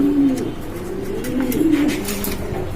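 German seal racer pigeons coo nearby in a short series of low, rolling calls, with a constant hum of other birds and market noise behind.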